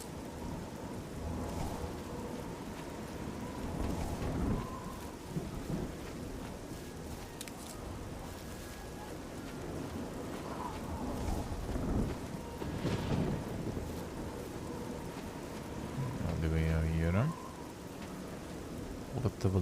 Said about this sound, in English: It's a super storm.